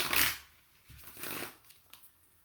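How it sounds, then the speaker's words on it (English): Quiet riffle-shuffles of a deck of cards, two or three quick bursts close by. "I just start off by a couple of shuffles"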